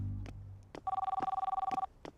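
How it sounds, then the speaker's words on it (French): A cell phone ringtone in a French-dubbed Horseland cartoon rings in one steady electronic burst of rapid repeated pulses lasting about a second, clear and alone, framed by brief faint sounds. "Tu devrais changer ta sonnerie."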